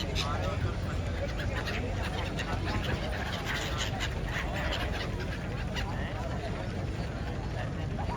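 Birds at the ghats along the Ganges in Banaras make scattered honking and squawking calls over a steady background din, while a person talks throughout.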